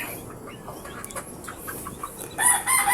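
A bulik fighting cock in a flying pen gives a few soft clucks, then lets out a loud, close crow near the end.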